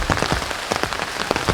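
Heavy rain pours steadily onto wet ground and foliage at a jungle survival camp, a dense, close, continuous patter of drops with no voices.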